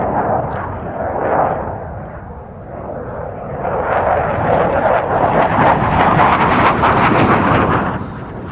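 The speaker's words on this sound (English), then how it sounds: "rather smokier, thanks to the aircraft's two Klimov RD-33 turbofan engines" Polish Air Force MiG-29 jet with two Klimov RD-33 turbofan engines flying a display at an air show, a loud roaring engine blast swelling and rumbling at a distance.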